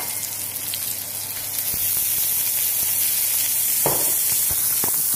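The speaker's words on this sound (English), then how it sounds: "I'm going to add the frozen veg." Frozen vegetables hit a hot pan with mushrooms already cooking for chicken fried rice, a loud close hiss that swells after a couple of seconds into steady crackling sizzle with scattered pops and clinks.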